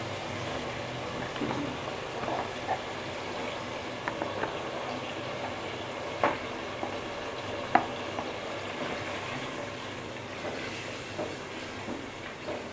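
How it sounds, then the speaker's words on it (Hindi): Boiled mutton frying in masala for tinda gosht makes a low, steady sizzle with occasional faint clinks of stirring against the pot. "अब हम गोश्त को भून लेते हैं"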